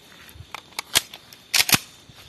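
A pistol firing a .380 ACP round into bars of soap at a shooting range produces a few sharp, snappy cracks spaced unevenly over a couple of seconds.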